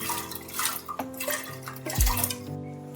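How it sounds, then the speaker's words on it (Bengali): Washed pigeon pea lentils are tipped into a clay cooking pot already holding water and vegetables, giving close clattering knocks and ringing pot tones with a wet slosh, and no talking. "এবার পরিষ্কার করে ধুয়ে রাখা অরহর ডাল দিয়ে দিচ্ছি হাঁড়ির মধ্যে।"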